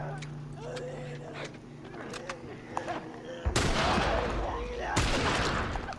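Gunfire in The Last of Us, a few sharp shots amid game ambience, followed by two loud, sudden blasts with rumbling tails in the last seconds; a voice talks faintly at times.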